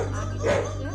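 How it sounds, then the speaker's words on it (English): A dog gives a short bark or yip over a steady background hum, heard once at moderate loudness inside a children's farm-animal sound game. "It's a dog."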